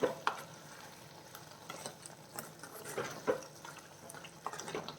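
Crab roast frying in a pan over a raised flame, a steady close sizzle with scraping stirs and occasional clinks of the spoon against the pan, no voices.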